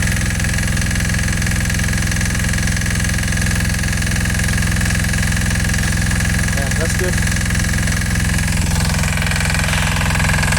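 A steady, loud Yanmar YDP20N single-cylinder diesel water pump engine chugs along continuously, with a brief exchange of speech partway through.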